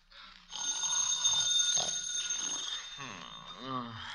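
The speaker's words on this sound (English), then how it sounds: "Answer the phone, Mabel." Telephone ringing as a sound effect in a classic radio comedy drama, a sustained bright electric bell that rings on under the action while voices speak over it.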